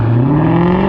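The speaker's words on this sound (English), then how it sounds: "It literally just spun the tires like it was trying to do a burnout." A Dodge Durango SRT 392 launching from about 3300 RPM on launch control, its V8 roaring loud and close as the tires spin, engine pitch climbing steadily like a burnout, no talk.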